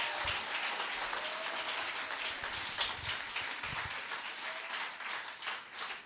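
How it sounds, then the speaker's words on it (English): A congregation clapping hands during a joint church worship service, a steady wash of many hands heard from a distance, fairly faint, with scattered louder claps and no talking over it. "Clap your hands unto the Lord."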